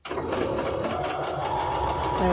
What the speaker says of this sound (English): Line those up. and sew them up.